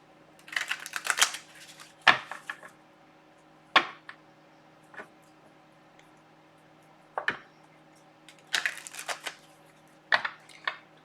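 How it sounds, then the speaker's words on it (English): A deck of cards is shuffled by hand in several short, crisp riffling bursts separated by pauses, close and fairly quiet in an otherwise still room. "Alright, I'm going to shuffle on camera."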